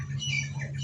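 A pigeon gives a short, faint close call over a low steady hum, lasting under a second with no voices.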